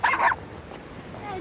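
A dog gives one short, sharp bark at the start, followed by quiet room tone and faint sounds.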